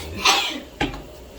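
A single sharp sneeze bursts out, followed by a brief second exhale, close by and fairly loud in a quiet room.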